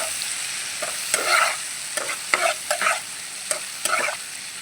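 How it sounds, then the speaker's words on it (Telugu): Chili chicken being stirred with chili sauce in a pan, restaurant-style home cooking: a steady frying sizzle runs throughout, with several sharp scraping strokes of a spoon against the pan at irregular intervals, close and fairly loud. "ఒక స్పూన్ చిల్లీ సాస్ వేస్తున్నాను ఒకసారి తిప్పుతున్నాను"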